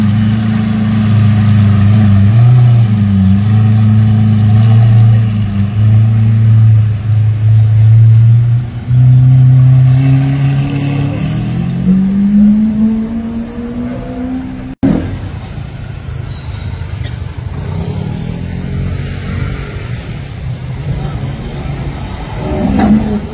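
A Ferrari 599 GTO engine rumbles loudly and steadily, its pitch climbing as it revs up, then cutting abruptly to a rougher, lower idle-like roar, in Monaco.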